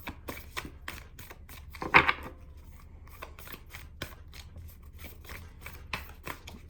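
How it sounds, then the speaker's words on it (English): Tarot cards are riffled and flipped in quick, irregular snaps. One louder burst of shuffling cuts through, and there is a faint background hum. "All these cards are like flipped through."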